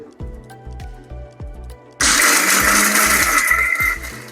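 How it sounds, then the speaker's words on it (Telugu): A mixer grinder blending gongura chutney ingredients, with a few short clunks and pulses before the motor roars into a loud, steady whir that runs to the end. "అలా ఒక మిక్సీ కొట్టాక ఇలా తయారవుతుంది అనమాట"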